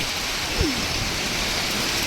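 Heavy rain pours steadily in a storm, a dense, even hiss that stays loud throughout with no clear pauses.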